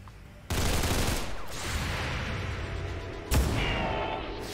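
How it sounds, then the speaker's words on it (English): Dense, continuous gunfire from the video game XCOM 2: overlapping volleys and bursts run nearly the whole time, with a sharper, louder blast near the end, all loud and close with no talk over it. "Nice, bit of return fire, bit of covering fire"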